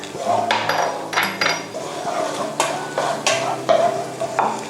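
Finely minced garlic sizzles in hot vegetable oil in a pan, with a spatula stirring and scraping in uneven strokes close by.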